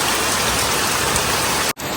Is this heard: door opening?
no